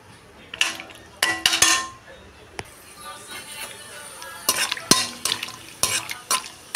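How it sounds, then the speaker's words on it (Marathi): Cashews fry in oil for chicken biryani with a soft, steady sizzle. Sharp metallic clinks and scrapes of a utensil against the pan come in bursts, close by. "बघा, मी काजू फ्राय करून घेत आहे."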